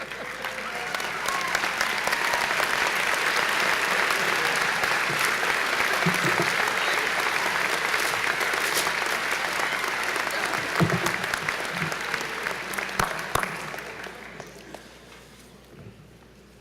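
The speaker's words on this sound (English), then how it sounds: "give yourself a round of applause and some high fives." Graduates at the 2017 Owensboro Community & Technical College commencement applaud themselves in a large hall, a long roar of clapping with scattered voices and shuffling that swells, holds, then tapers off.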